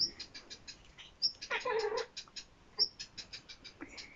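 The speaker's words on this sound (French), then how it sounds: "je ne sais pas si vous entendez mon chat" A cat lets out a soft, drawn-out meow amid faint, quick chirping of birds outside; quiet and close, with no talking.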